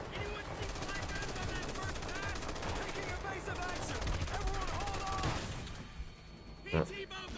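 Heavy gunfire from merchant ships in Call of Duty World at War, rapid machine-gun bursts and shots rattling continuously over battle noise, with shouted voices mixed in before the firing drops away near the end.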